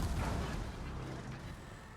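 Secondary guns on a warship in World of Warships fire in a dense, rumbling barrage of low booms that blur together, loud at first and then easing into a steady distant roll.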